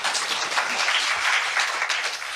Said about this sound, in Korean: 여기서 박수 한번 쳐주십시오.